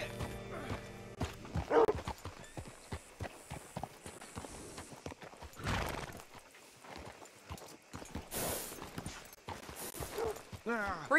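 Horse hooves clip-clop on the ground in the video game Red Dead Redemption 2, a series of distinct footfalls at moderate distance, interrupted by a character's speech and other game sounds.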